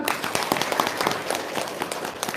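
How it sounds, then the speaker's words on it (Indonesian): Audience applause at a religious talk after a humorous remark, a brief burst of many hands clapping with distinct sharp claps standing out over a crowd wash, moderately loud and near. "Tepuk tangan dong"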